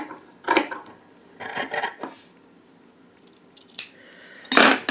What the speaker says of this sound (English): Now we're cutting on the line.